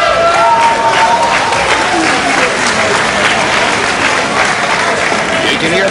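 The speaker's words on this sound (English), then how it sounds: "applause in the background as this crowd here in Tokyo, Japan, waiting for something big to happen" Boxing crowd in Tokyo, Japan breaks into loud, continuous applause at ringside while a commentator keeps talking over the steady clapping.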